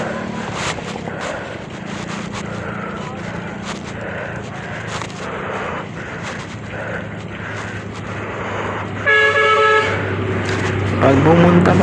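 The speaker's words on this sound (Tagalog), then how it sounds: "kailangan sanay kayo sa mga malalakas na busina. Kasi yung mga sasakyan dito, busina ng busina." On a busy road near Kaybiang tunnel, vehicle traffic rumbles under voices, then a loud car horn blares close by toward the end, followed by more honking.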